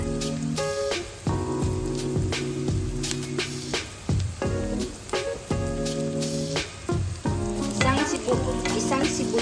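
Steady sizzling of a large onion frying in a pan, with crackling pops and some clinking of a utensil stirring throughout.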